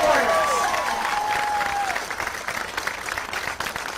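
An audience claps and cheers in a large hall, a dense sustained burst of applause with a few rising whistles early on, gradually thinning toward the end.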